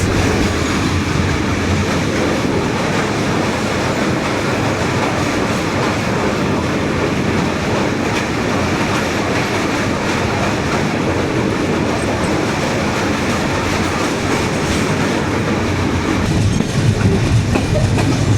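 Padma Express passenger train running at night, a steady loud rumble of wheels on rails with rhythmic clickety-clack from inside the moving carriage, continuous throughout with no talk.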